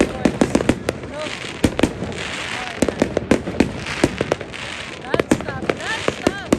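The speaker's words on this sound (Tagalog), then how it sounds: "Buong paligid namin, puro fireworks." New Year's Eve fireworks in the Netherlands burst all around, with sharp pops and crackling bangs coming near and far in a rapid, irregular stream over a constant background rumble, with voices talking at times.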